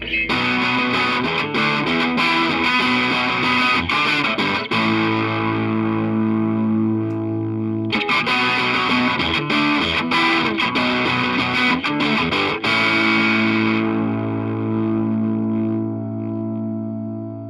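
Heavily distorted electric guitar chords through a custom 5F1 5-watt tweed tube amplifier ring out loud and sustained, two strummed passages each fading into a long held chord.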